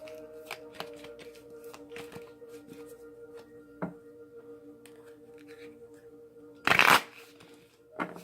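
A deck of tarot cards being shuffled up close, a brief loud riffle burst near the end after quieter handling sounds, over a steady low hum.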